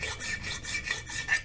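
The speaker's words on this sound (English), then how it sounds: "We'll take a file, just clean that up." A hand file rasps across a burr on the lower unit of a 1973 Evinrude 18 hp outboard, about six quick, even strokes close by with no talking.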